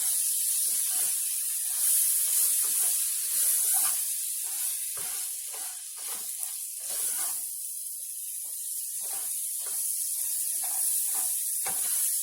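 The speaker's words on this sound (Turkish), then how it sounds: "Şöyle tereyağını eriteyim." Butter melting in a pan over lowered heat for a homemade minced-meat pasta sauce, giving a steady soft hiss and sizzle with faint crackles throughout, fairly quiet and alone.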